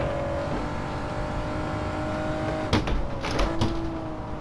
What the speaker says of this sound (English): There's a four-wheel drift.